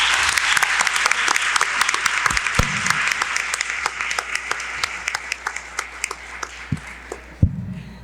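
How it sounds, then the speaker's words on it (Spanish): Applause from an audience at a book-fair tribute, a sustained wash of many hands with sharp individual claps popping out near and loud, thinning out toward the end. "Un aplauso para ella, por favor."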